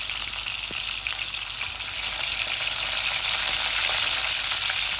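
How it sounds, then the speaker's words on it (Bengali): Spinach greens with mushrooms frying in a pan, a steady bright sizzle that grows slightly louder partway through, with a few faint taps and stirring clicks and no talking. "আমি মাশরুম দিয়ে শাকটা ভাজি করব।"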